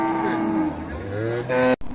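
Beef cattle at a livestock market in Dinajpur, Bangladesh let out one long, loud, close moo that swells again near the end before cutting off abruptly.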